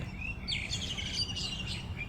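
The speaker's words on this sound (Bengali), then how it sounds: "এই মাছরাঙা পাখি এসে পড়েছে" A kingfisher gives a few sharp, high chirping calls over a low background rumble, fairly close and brief.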